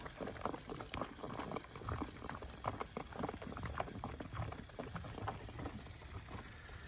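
Hot coolant gushes and bubbles past a stuck thermostat into the radiator of a 1967 Mustang, a steady close churning liquid rush with small popping bursts throughout.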